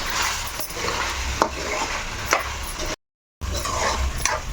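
Biryani masala powder being stirred into chicken fry in a pan, with repeated spoon scrapes and clinks over a low sizzle, near and fairly loud, briefly cut to silence midway.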